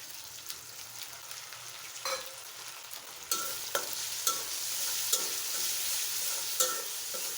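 Prawns fry in a pan with a constant soft sizzle that grows louder partway through, punctuated by occasional sharp clinks and scrapes of stirring.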